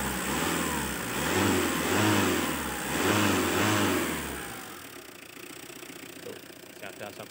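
Tata diesel engine running in a workshop, a rough low rhythmic rumble that swells and revs for several seconds, then drops to a quieter steady idle with faint clatter.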